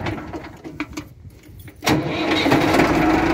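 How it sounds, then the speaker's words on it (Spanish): A Ford 6610 tractor engine cranks briefly, then fires and catches at close range, settling into a loud, steady diesel running note. "Como puedes ver, ahí el tractor encendió."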